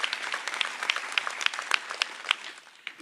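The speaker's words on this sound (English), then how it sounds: "Let's give them a round of applause." Continuous crowd applause at a DeKalb County fire rescue graduation ceremony, many hands clapping densely with a few sharper individual claps standing out, steady throughout.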